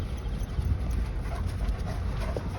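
Akbash shepherd dogs wearing spiked collars pant close by while trailing slowly across open rural land, a rough breathy rhythm over steady outdoor background noise, with no talking.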